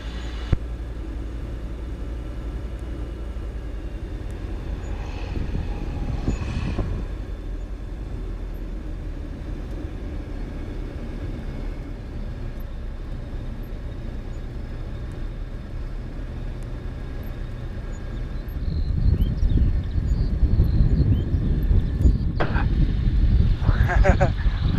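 Eurofox tailwheel light aircraft in gusty flight gives a steady engine and wind rumble throughout, growing louder and rougher toward the end, with people talking over it in the cockpit.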